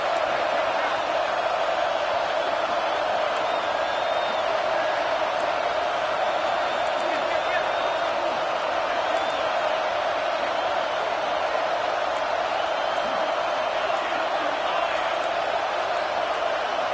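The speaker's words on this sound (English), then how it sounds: "how nice is it to have the home crowd going absolutely bananas?" Home crowd at an Oklahoma versus Michigan State college football game roars continuously, a broad, steady wash of cheering from a large stadium audience that holds at one level throughout.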